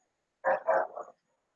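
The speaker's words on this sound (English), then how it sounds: "The dogs are barking." A dog's short bark, a single brief vocal burst of two or three quick bow-wow pulses, moderately close and alone against silence.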